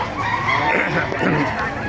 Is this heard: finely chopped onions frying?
no